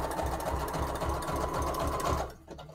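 A sewing machine stitches fabric for a junk journal cover, running loud and steady with a rapid mechanical rhythm, then stopping abruptly near the end.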